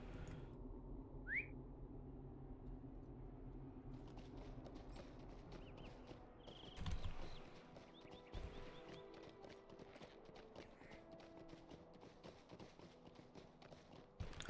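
Hooves of a riding horse clip-clop steadily in Lord of the Rings Online, a quiet rhythmic trot alongside soft game ambience and a brief whistle.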